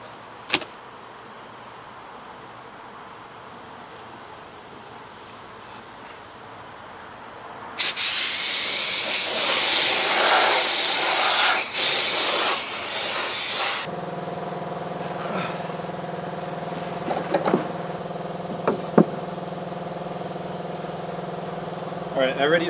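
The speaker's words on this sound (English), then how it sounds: "I'm going to use my air compressor because it's easier to drag the hose out here" An air compressor hose blasts a loud, steady hiss of air for several seconds as bees are blown out of honey supers outdoors, then cuts off, leaving a lower humming background with a few faint knocks.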